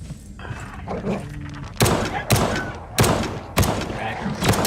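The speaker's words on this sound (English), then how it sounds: "throw some fireworks in there, lighten up that sadness" Fireworks thrown into barracks in the video game Pit of Doom, bursting in a run of sharp loud bangs and cracks roughly every half second, with softer thumps and game ambience between them.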